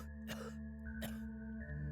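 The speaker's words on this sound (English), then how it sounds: "The Sanator doubles over and goes into a violent hacking coughing fit." A monster in the video game Sanator doubles over in a violent, hacking coughing fit: two harsh broadband bursts about a second apart over a steady droning game score, with no talk.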